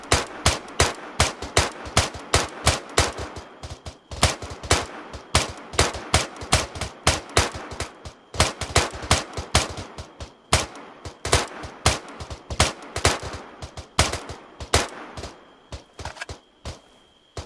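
Rapid bursts of gunfire from a military shooter video game, with dense automatic fire and single shots cracking in quick succession, loud and close, continuing without pause throughout.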